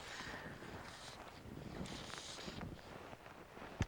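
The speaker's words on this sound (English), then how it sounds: "the wind's come up" Wind gusts steadily across a Montana lake during fly fishing, a broad, soft roar buffeting the microphone throughout, with a brief thump near the end.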